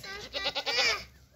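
A dairy goat from a Nubian and Saanen crossbred herd lets out one close, loud wavering bleat lasting about a second, with quiet farmyard background before and after.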